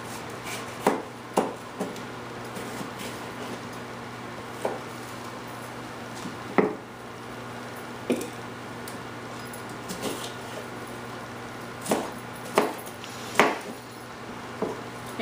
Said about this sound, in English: I'm just gonna cut my bell pepper here